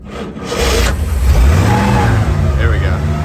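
A 1951 Dodge Power Wagon engine catches and restarts, settling into a loud, steady mid-pitched running rumble close by, with a brief rise in revs early on and some rubbing noise.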